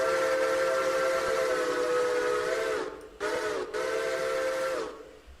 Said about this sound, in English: Specifically, it is New Hope and Ivanland number 40's whistle.